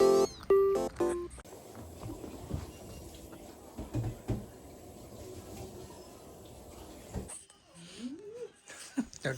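A rescued cat meows a few short times indoors, one meow near the start and a rising one near the end, amid quiet household sounds.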